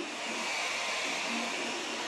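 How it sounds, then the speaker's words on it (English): The cooling fans of an Alfawise U30 Pro 3D printer run with a loud, steady, airy whoosh that holds constant and close, with no talking. "Self fans, it's too cheap, they very loud. What you can hear it is just fans."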